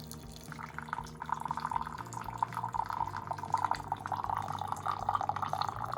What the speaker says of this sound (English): Let's say I want a little bit more hot water.